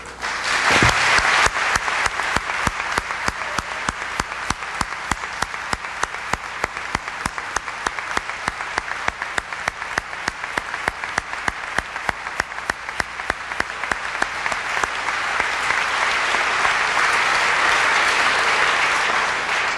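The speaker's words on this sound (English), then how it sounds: "give our awardees and inductees another round of applause" An audience at the 1995 Chicago LGBT Hall of Fame induction ceremony applauds awardees and inductees with sustained, dense clapping from a large crowd that holds steady for nearly twenty seconds and swells slightly toward the end.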